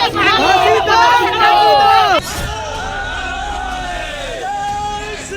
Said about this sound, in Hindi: सड़क पर हजारों की भीड़ उतर रही है।